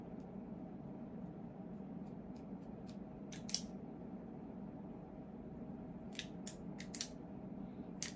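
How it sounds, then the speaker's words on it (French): Cutter snipping the head of a Romeo y Julieta Petit Churchill cigar: a few sharp, brief clicks near 3.5 s and again around 6–7 s, close and quiet over a steady low background hum. "c'est parti pour couper la tête du cigare"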